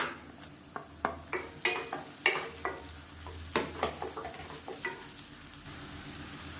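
Garlic cloves frying with softened onions in a pan, a faint sizzle beneath a series of sharp stirring scrapes and clinks that come at a steady pace, with no talking.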